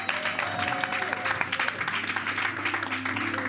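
Congregation applauding during a French-language thanksgiving church service, a steady, dense clapping that fills the room throughout.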